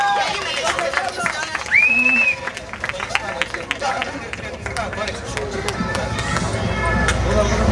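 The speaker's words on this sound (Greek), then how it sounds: "Ένα χειροκρότημα για τα παιδιά." Audience applause for the children at a school Christmas theatre performance in a Piraeus junior high, a crowd clapping steadily with murmurs and a few voices mixed in, swelling toward the end.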